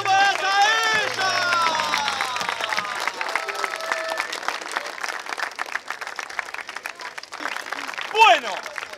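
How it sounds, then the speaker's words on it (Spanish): Loud applause and cheering erupt from the crowd at a rap battle event, clapping rolling steadily for several seconds amid shouting and voices, then thinning out toward the end. "¡Fuerte el aplauso para esta ella!"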